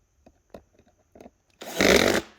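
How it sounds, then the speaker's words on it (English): After a few soft handling clicks, an automatic screwdriver whirs in one loud, short burst close by, driving a screw into the gullet plate of an EDIX soft tree saddle. "you can take or your screwdriver by hand, but I like to use the automatic one"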